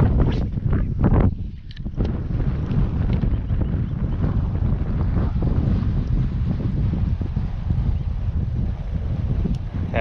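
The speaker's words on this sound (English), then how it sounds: "This wind is affecting our cast way too much." Strong wind buffets the microphone on a fishing boat out on the water, a steady loud roar with gusty rumbling throughout and no voices.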